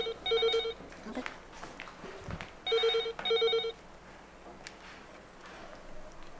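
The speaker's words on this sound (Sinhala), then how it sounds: "අන්න ෆෝන් එක රින්ග් කරනවා" A telephone rings in two distinct bursts of repeated electronic trilling, near and clear, separated by a quieter gap with faint room noise and light movement.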